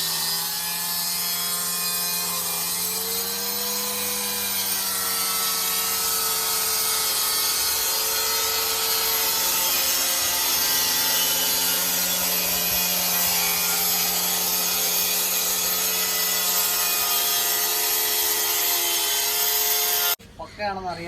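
A power saw cutting a granite slab along a guide scale runs as a loud, steady, continuous whine for about twenty seconds, cutting off abruptly near the end.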